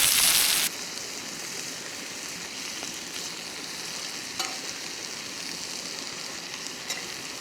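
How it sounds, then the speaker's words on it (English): Hamburger sizzles steadily in a hot skillet at a campsite, a constant crackling hiss after a brief louder burst at the start. "now we can hear it sizzling away"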